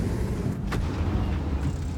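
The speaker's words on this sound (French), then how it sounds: "J'ai l'impression que c'est une grosse explosion comme ça là" A large explosion in the World of Tanks video game: one deep, rumbling boom that holds steady across the short stretch, with a brief sharp burst near the middle.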